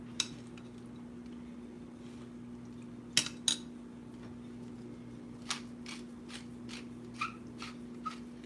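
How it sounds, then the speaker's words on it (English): Food stirred with a utensil in a pot or bowl: faint, sporadic clinks and scrapes at irregular intervals over a low, steady hum. "I'm stirring me food."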